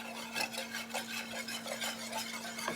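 A whisk scrapes and rasps steadily around a pan, stirring flour as it browns, in a quick repeated rhythm of close, moderately loud strokes with no talking.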